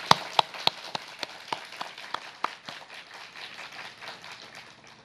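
At an outdoor community gathering for Gusan-dong residents, a few sharp, separate claps ring out first, then soft, scattered applause from a smaller crowd continues quietly.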